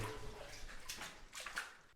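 Water sloshing underfoot in a flooded tunnel of the Paris catacombs, a steady low wash with faint splashes from footsteps, heard alone with no talk.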